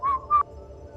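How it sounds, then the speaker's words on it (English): A person whistling the tune "In the Hall of the Mountain King", two short sustained whistled notes close to the mic, then quiet with a low background hum. "he will start whistling a tune that sounds something like"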